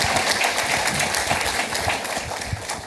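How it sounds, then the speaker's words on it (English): Conference attendees at a Chicago fiscal policy event give a sustained round of applause, many hands clapping together at an even level before it thins slightly near the end. "Please give all those folks a round of applause because it is appreciated."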